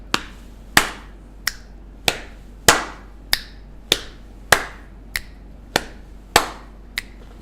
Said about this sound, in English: Knees, clap, snap, or click.